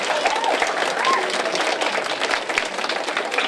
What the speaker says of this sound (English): Students, would you give your parents a round of applause for all they do for you?